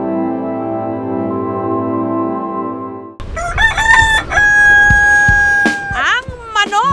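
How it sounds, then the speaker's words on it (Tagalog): After a steady droning tone, a rooster crows loudly and close by, two or three calls in quick succession. "Ang manok, natural alarm clock, hudyat na gumising na tayo"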